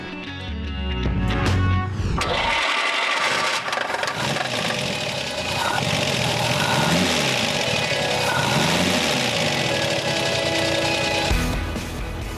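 An old BMW 328 six-cylinder roadster engine making 80 horsepower fires up and settles into a throaty idle, revving gently with a rough, mechanical rumble up close.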